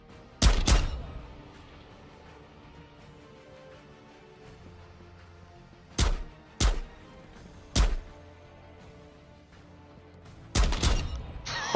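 Booming rifle shots from a powerful, sniper-like gun in the VR game Escape from Tarkov ring out with heavy low-end punch. There is a quick pair, a spaced trio and a final burst, each loud and close against quiet surroundings.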